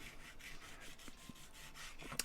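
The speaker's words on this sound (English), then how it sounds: "So I can use this sanding stick to remove just little bits of metal" A small sanding stick rubbed in short strokes over the sharp corner of a silver pendant, producing a faint, close, dry rasping scrape with a few light taps near the end.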